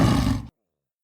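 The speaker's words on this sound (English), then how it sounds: "Sparky turns back and sees one big tiger." A big cartoon tiger lets out a loud, close roar that lasts about half a second and then cuts off abruptly into silence.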